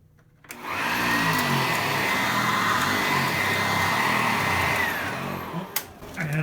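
A Sanitaire SC684 upright vacuum cleaner switches on and runs over carpet with a loud, steady motor whine and airflow roar, then cuts off with a few clunks near the end.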